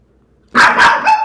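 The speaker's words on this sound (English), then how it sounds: "Quit barking, you're sissy." A dog barks close by in a quick burst of two loud barks and then a shorter yip, all inside about a second, with no talking over it.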